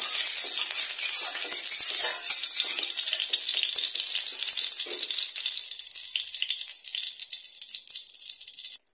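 Oil sizzles in a hot pan as it is spread around, a continuous bright crackling hiss that holds steady at close range for several seconds before cutting off abruptly at the end.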